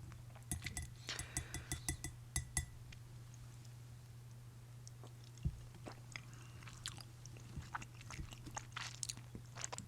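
Close, crisp biting and wet chewing of pickled beets eaten straight from the jar, with a run of quick crunchy bites early on, then slower intermittent chews and faint glass clinks over a steady low hum.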